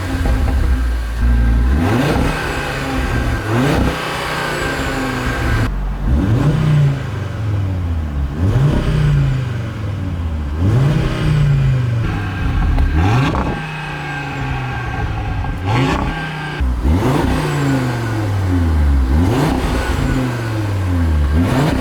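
Audi S3 doing repeated launch-control starts, the engine revving hard and climbing through quick gear changes in several loud surging runs with brief pauses between them, no talk.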